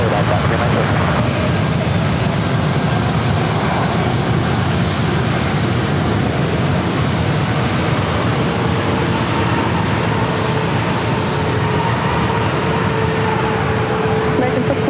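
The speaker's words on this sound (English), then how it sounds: "An American flight coming in from Philadelphia, flight 1621. It was an A321 Neo." An American Airlines Airbus A321neo arriving at San Diego airport: a steady, loud, broadband jet engine roar with a slight whine, continuous throughout, close to the listener.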